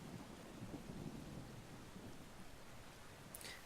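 Steady in-game rain with low rumbling thunder from Brothers: A Tale of Two Sons, a continuous wash of downpour at moderate level with a faint high crackle near the end, no voices.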